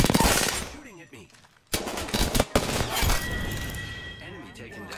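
Video game gunfire crackles in rapid automatic bursts during a squad shooter match, loud and dense, along with sharp shots and game effects, while players talk over it.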